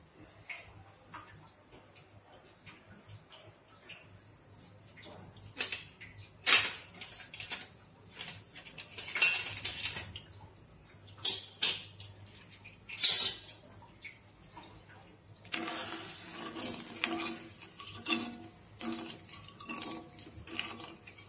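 A spoon clinks and scrapes against a vessel while a mixture is stirred in water until it dissolves, with irregular bursts of tapping and swirling, fairly close and moderately loud.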